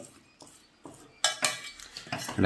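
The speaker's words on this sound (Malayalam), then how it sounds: "റവ ഇട്ടു അത് ഇനി ആ സ്പൂണ് കൊണ്ട് ശരിക്കൊന്ന് ഒതുക്കി വയ്ക്കുക" A spoon presses and scrapes semolina in a pan of boiling water with spinach and curry leaves, making irregular metallic taps and scrapes that grow louder and busier toward the end, close by, without speech.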